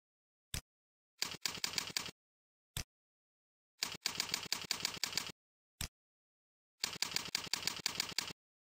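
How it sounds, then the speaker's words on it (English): Computer keyboard typing while login credentials are entered, loud and close, in rapid clattering runs of keystrokes separated by single isolated taps and short pauses, with no voice. "Then type the username and password."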